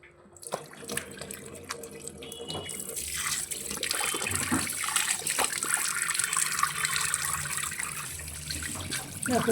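Tap water runs steadily into a sink while someone washes their face at home, a continuous splashing rush with occasional louder splashes, close and alone.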